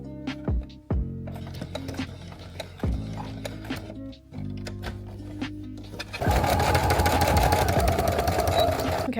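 A sewing machine stitches two leather straps together for a cosplay costume, running in short start-stop bursts with a steady whirring hum, then a longer, louder continuous run near the end.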